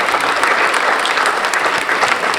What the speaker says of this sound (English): So come on out and give them a big round of applause.